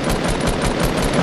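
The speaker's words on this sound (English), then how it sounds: "We're being shot at." Rapid automatic gunfire in a glider flight video game, a loud continuous burst of machine-gun shots filling the whole moment with no talk.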